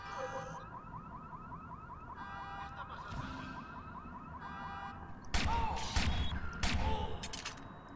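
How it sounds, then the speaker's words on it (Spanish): A wailing, cycling electronic alarm set off in the video game Watch Dogs, loud and continuous, with sharp bursts of gunfire breaking in over it during the last few seconds. "Vamos a hacer saltar la alarma"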